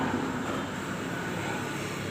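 Electric fuel pump of a Yamaha Mio GT 125 scooter whirring steadily after the ignition is switched on, a continuous close hum with no break, alone without speech.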